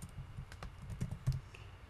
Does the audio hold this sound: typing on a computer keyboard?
yes